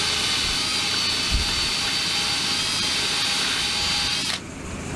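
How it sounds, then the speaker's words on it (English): Drill spins a barrel brush to clean the engine valve area on a Farmall Super A tractor, giving a loud, steady high-pitched whirring with scrubbing grit that cuts off abruptly just before the end. "Got me a barrel brush on my drill."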